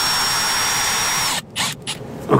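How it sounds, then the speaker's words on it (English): A power drill drives pan head screws into a metal roof, giving a loud, close, continuous whir that cuts off partway, followed by a few short bursts and knocks. "I got these pan head screws. Okay, I hope I got the right bit here."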